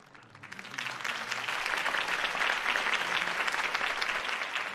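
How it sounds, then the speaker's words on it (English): Crowd applause in the Batman Telltale video game, a steady wash of clapping that swells within the first second and then holds loud and dense throughout, with no talk over it. "If only Mr. Wayne, my campaign's largest backer, could have heard that applause"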